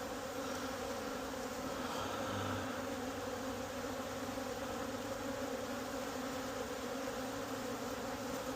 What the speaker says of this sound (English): So a lot of these bees are getting out because of that formic acid.